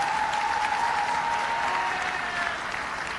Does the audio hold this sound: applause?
yes